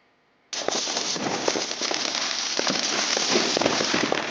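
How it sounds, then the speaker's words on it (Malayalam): A 120-shot firework cake set off for Diwali erupts after a brief silence into a loud, continuous barrage of crackling bursts and sharp pops that keeps going without a break. "നൂറ്റി ഇരുപത് പ്രാവശ്യം മുകളിൽ പോയി ഇങ്ങനെ പൊട്ടിക്കൊണ്ടിരിക്കും"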